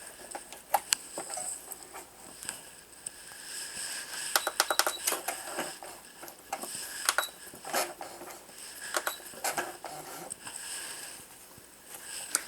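A sewing machine with a zipper foot stitches a zipper seam on a scalloped wallet, quiet bursts of fast rattling needle strokes with short pauses between runs.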